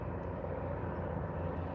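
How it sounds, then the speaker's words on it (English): A medevac helicopter passes overhead, a steady, loud low roar filling the clip without talk or clear variation. "I got a helicopter coming over top of us. It's like a medevac helicopter"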